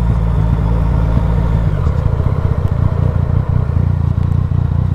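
A Yamaha MT-09 three-cylinder motorcycle engine idles close by, with a steady low throb and some mechanical clatter running throughout and no talking.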